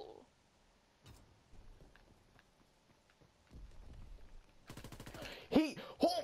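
Gunfire in a WW2 Search and Destroy shooter game: sparse distant shots and footsteps at first, then a dense burst of rapid automatic fire near the end, with voices briefly over it.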